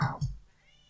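Two short, harsh cat meows from a creepy indie video game sound close and insistent, the second coming quickly after the first before fading into quiet.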